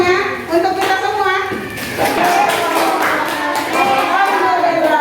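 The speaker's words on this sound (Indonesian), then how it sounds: "tepuk tangan semuanya untuk kita semua" A primary school class of sixth graders claps together in the classroom, scattered taps building into steady group applause over which children's and a teacher's voices carry.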